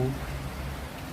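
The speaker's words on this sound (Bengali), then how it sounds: "প্রচণ্ড বৃষ্টি হচ্ছে এবং ঝড়ো হাওয়া" Heavy rain with gusty wind during a cyclone in Dhaka, heard as a steady, dense hiss of downpour that stays broad and even throughout, with a faint low rumble underneath.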